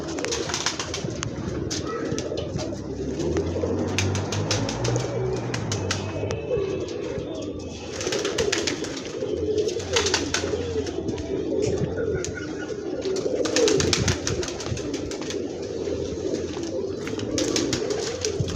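Pigeons coo in soft, repeated low murmurs that run steadily throughout, with bits of nearby talk and faint chirps mixed in.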